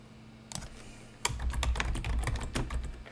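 Keys clack on a computer keyboard in quick irregular bursts, close and fairly clear, with a few isolated taps before a denser run of typing over a faint steady hum.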